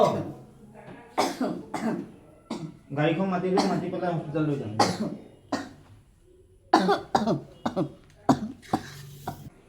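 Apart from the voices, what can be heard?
person coughing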